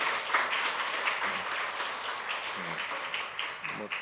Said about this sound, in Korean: 우리 잠깐 일어나시면 박수로 환영하겠습니다.